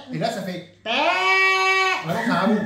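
A person imitates a sheep with one long, nasal, wavering bleat held for over a second, close and loud, with short bits of talk just before and after it.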